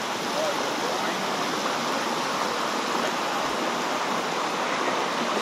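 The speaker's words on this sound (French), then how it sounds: "la rivière là descend de la montagne" A mountain river in Koh Samui pours steadily over rocks, a dense, continuous watery roar up close, with no pauses.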